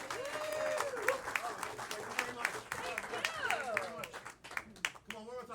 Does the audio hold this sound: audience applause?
yes